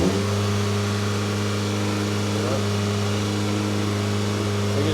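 A 500 BHP Stage 3 Audi S3 runs on a dyno, its engine holding a steady loud drone with a strong low hum under it, close and continuous.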